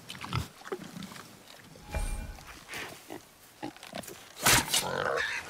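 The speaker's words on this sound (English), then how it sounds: "The wild boar's hide is thick." A wild boar with thick hide grunts and snorts in God of War. Several short, rough grunts come at close range, mixed with rustling and a sharp burst near the end, under a soft backdrop of other game sounds.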